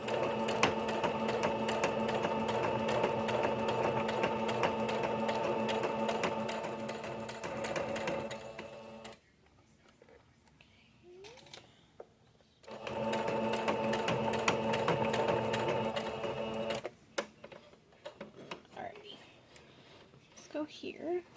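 Sewing machine stitching a fabric badge holder, running in long steady bursts with a pause in the middle where a voice speaks, then resuming loudly and stopping again near the end.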